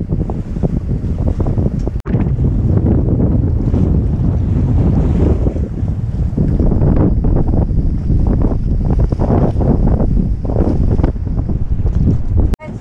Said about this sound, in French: on va avoir un peu de vent là, maintenant